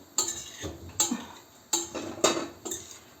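A plate is set down in a home kitchen while chicken liver is being cooked, with several light clinks and taps of crockery and cutlery at uneven intervals, close and crisp.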